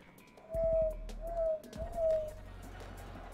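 An owl's hooting plays from a phone, three soft, hollow tonal hoots in an even rhythm over quiet room background, fairly faint and thin.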